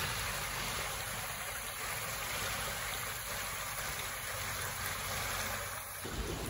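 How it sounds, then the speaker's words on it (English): Steady rushing of flowing water at a blueberry farm after dark, a continuous broadband wash heard fairly close and alone, ending abruptly near the close. "do you hear that water?"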